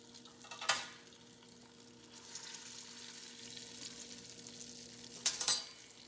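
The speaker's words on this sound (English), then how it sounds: "And I'm going to let it fry up." Flour-dipped cube steak frying in a pan, a soft steady sizzle underneath with two louder bursts of crackle near the start and end, no voices.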